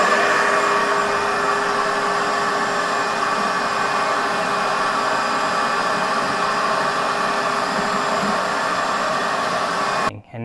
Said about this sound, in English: Periodically, we come in here with a shop vac.